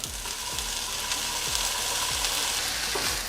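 Fried rice sizzles loudly in a hot pan as soy sauce goes in, a dense, steady frying hiss with soft rhythmic scraping thumps from stirring.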